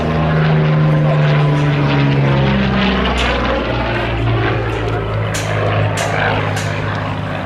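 A Curtiss P-40C Warhawk propeller fighter flies at the Duxford Battle of Britain airshow, its inline engine giving a loud, steady drone with a falling pitch as it passes.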